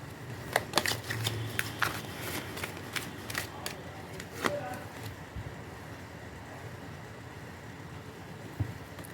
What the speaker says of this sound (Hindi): ओ ओ, कार्ड्स गिर गए